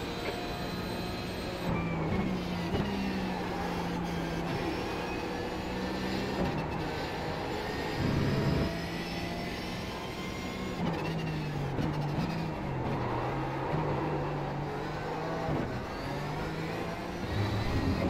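A Porsche 911 GT3 Cup engine in iRacing at Snetterton 300, a loud sustained flat-six drone rising and dropping in pitch through gear changes and throttle lifts, steady throughout with no talking.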